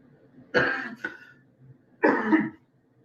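Two harsh coughs a second or so apart, close and fairly loud, with a brief throaty catch after the first.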